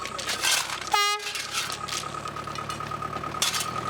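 A light tram train runs on rails through Iran's Zagros mountains, a steady rumble and rattle throughout with a short tonal horn toot near the start.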